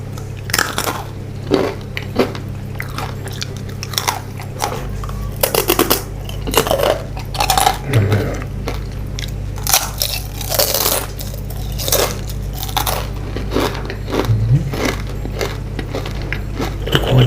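Crispy baked vegetable chips are bitten and chewed close to the mic, with loud, sharp crunches coming in irregular bursts over a steady low hum, and no talking.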